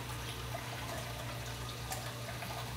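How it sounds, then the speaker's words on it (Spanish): Water fills a basin in a steady, even rush that holds at one level from start to finish, with no voices. "Entonces lo vamos a llenar de agua"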